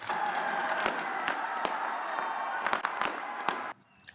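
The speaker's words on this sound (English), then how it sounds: "The city's sky is aglow with brilliant fireworks" New Year fireworks burst over Auckland, sharp cracks and bangs popping irregularly over a dense, continuous hiss of crackling and distant crowd noise, ending abruptly into near quiet.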